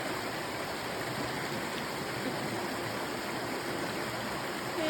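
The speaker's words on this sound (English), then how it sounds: "And then just straight down to where we do our next river crossing" A river rushes steadily at a trail crossing in Southern Maine, a continuous broadband wash of flowing water with no voices, heard as constant, even ambience throughout.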